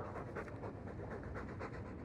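A Mabari war dog in Dragon Age II pants steadily and softly in rhythmic breaths under a continuous low background rumble.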